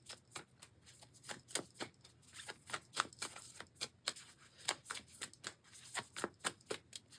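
Moonology oracle cards shuffled by hand: a quiet, close run of quick papery riffles and soft slaps in a steady, uneven rhythm, with no voices.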